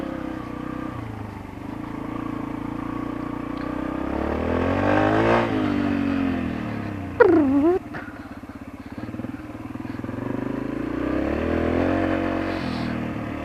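Yamaha TTR125LE dirt bike ridden in a backyard: a single-cylinder engine droning and rising and falling in pitch as it revs, with a sharp rev spike and clatter midway, close and continuous.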